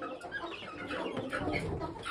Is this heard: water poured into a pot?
no